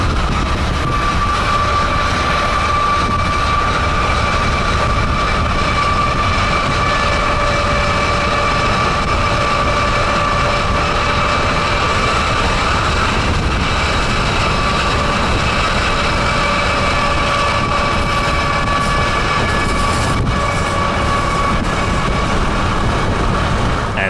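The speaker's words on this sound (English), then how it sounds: "Nothing was going to stop this train." A Norfolk & Western heritage unit locomotive hauls a train past, a loud continuous heavy engine drone with steady rail noise and a sustained horn-like tone running throughout.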